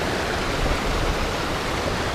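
A creek on the Lost Man Lake Trail rushes down from high above in a steady, broadband wash of flowing water, loud and unbroken throughout.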